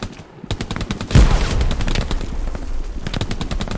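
An MG42 machine gun fires from a building window in the World War II game Hell Let Loose: loud, rapid, sustained automatic bursts close by, with dense rattling shots running almost continuously.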